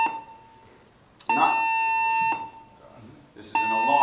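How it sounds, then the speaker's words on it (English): An electronic alarm sounds in loud steady tones that start and stop in bursts, with a short tone, a sustained stretch, a pause, then another burst. "This is an alarm."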